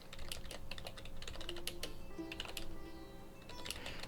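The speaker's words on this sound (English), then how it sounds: "I'm just typing here" Steady typing on a computer keyboard, with quick irregular key clicks going on throughout at moderate closeness, with no talk.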